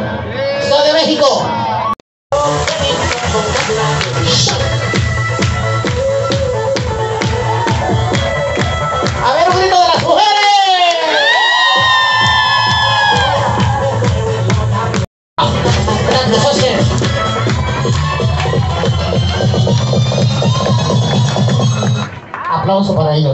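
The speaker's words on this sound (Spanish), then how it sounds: "Aplauso para ellos, amiga, aplauso" Crowd of tourists cheering and clapping aboard a pirate ship boat off Cancun, loud and sustained with whoops and babble, broken by two brief gaps, with a voice over a PA shouting in Spanish and English.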